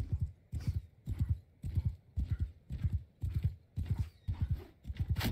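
Horse hooves gallop in Mount & Blade 2: Bannerlord, a steady rhythmic clip-clop of about ten heavy beats, loud and close, with a horse whinny mixed in and no talk over it.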